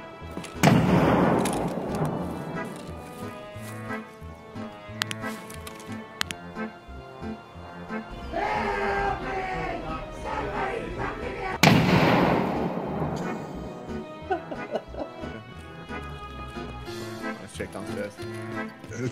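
Gunfire in the Escape from Memetov video game, scattered sharp shots and booms spread across the stretch, heard under and between excited talk.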